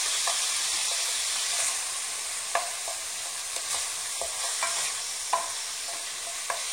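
Sliced canned mushrooms fry in a pan with a bright, steady sizzling hiss, punctuated by a few light scrapes and taps as they are stirred, close up with no voices.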